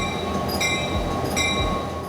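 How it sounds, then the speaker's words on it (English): A train rolls through Grapevine, Texas, a continuous loud rumble of wheels on rail with high metallic squealing tones rising and falling over the steady low roar, close by. "One thing you'll see or hear is a train that runs right through Grapevine."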